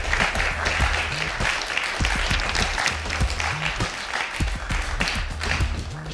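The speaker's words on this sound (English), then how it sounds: "So everyone, please welcome Alan to the show." A talk show studio audience breaks into sustained applause, dense and steady clapping with a few cheers, filling the room for several seconds.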